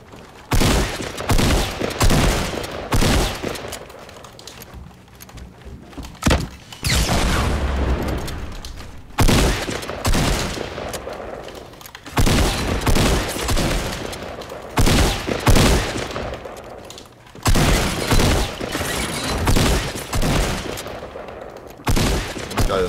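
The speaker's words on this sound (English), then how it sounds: "Oh my god, where did I just get shot from?" Rapid gunfire in the Fortnite Battle Royale video game, with repeated loud bursts of shots and booming impacts filling the whole stretch, no talk over them.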